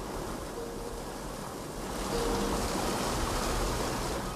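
The Ganga river flows between mountain valleys with a steady, broad rush of water, loud and even, swelling slightly partway through, with no voices.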